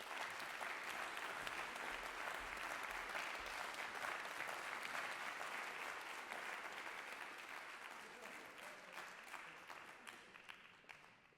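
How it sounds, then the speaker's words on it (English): Sustained audience applause for poet Caroline after her spoken-word performance at a queer poetry night, a dense steady clapping that slowly fades over the closing seconds. "Give Caroline one more round of applause."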